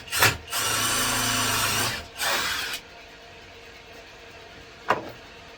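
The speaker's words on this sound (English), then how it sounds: "Let's do another, pre-drill another hole." A power drill pre-drills a hole into a 2x4 board for a workbench leg in a home woodworking shop, with one long whirring run of about two seconds, a shorter burst after it, and a quieter tail with a faint click.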